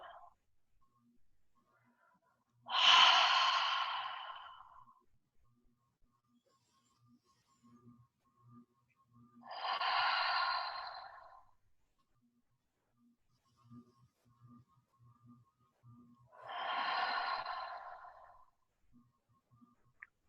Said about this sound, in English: Take a few big breaths here.